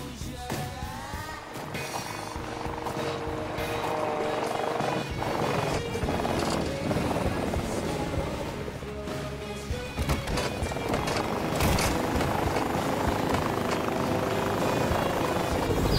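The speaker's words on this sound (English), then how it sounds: "Are they trying to get into a helicopter?" A helicopter in the video game Fortnite drones steadily under busy game effects and music-like tones, a continuous whirring rotor wash with scattered clicks and impacts layered over it.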